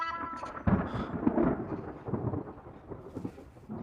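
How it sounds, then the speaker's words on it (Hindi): Low rumbling thunder in a dramatized scene, a deep roll that swells and fades across a few seconds, with faint rustling over it and no rain clearly falling yet. "लगता है बारिश आने वाली है।"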